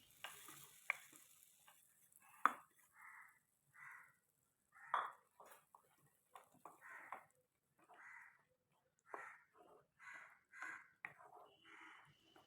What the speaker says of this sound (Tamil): இந்த தாளிப்பை கூட்டோடு சேர்த்து நல்லா கலந்து விட்டுக்கலாம்